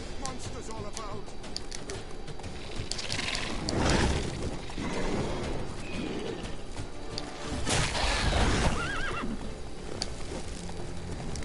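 A horse in The Witcher 3 video game gallops with steady hoofbeats, and a couple of loud neighs and snorts rise over the game's busy mix of background sounds.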